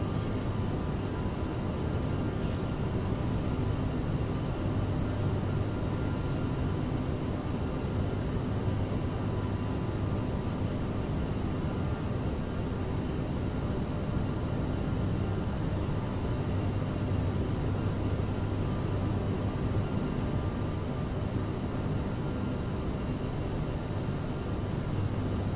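Steady, loud drone of an aircraft cruising in Microsoft Flight Simulator 2020, a continuous engine and airflow roar holding at an even level throughout with no voices over it.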